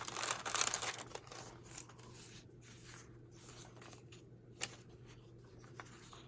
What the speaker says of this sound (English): This is some very old onion skin typing paper, and I just love the sound of that.